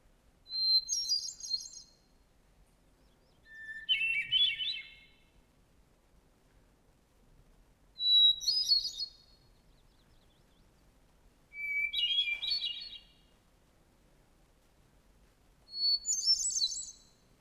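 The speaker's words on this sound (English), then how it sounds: "One of the bird musicians most beloved for its song in North America is the hermit thrush." Hermit thrush song, five separate phrases of clear, high fluting notes, each about a second long and spaced a few seconds apart, ringing out alone against near silence.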